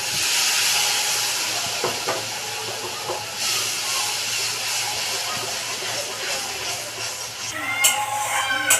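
A katla fish kalia curry hisses and sizzles steadily in the pan after a little water is added, a close, continuous frying hiss with faint clinks and a brief sharper crackle near the end.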